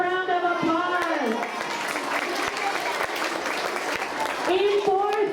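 A school assembly audience of elementary students and staff claps in a dense, continuous burst while someone speaks loudly over the start and end of it.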